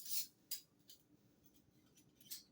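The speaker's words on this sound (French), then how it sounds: "Ensuite, je veux mettre mes fourchettes d'abord" Metal forks set down on a dinner table one by one, a few faint, crisp clinks spaced irregularly over quiet background, with no talking.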